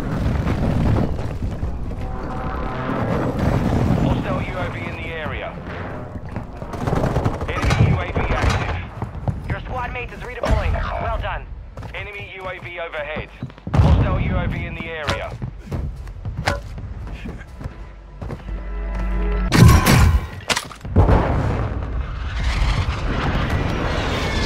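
Gunfire crackles from a building in a Call of Duty-style game: repeated bursts of automatic fire and single shots, some close and loud, mixed with other battle noise and some talk.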